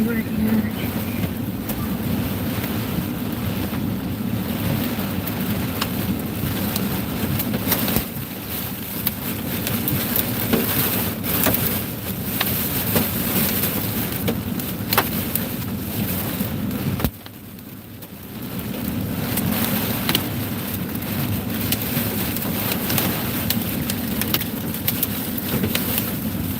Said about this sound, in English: I don't like this wind.